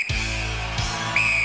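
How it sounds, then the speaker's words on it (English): A referee's whistle starting a Gladiators race, two shrill sustained blasts in close succession over steady background noise, the second slightly higher and brighter. "Rowan, you will go on my first whistle."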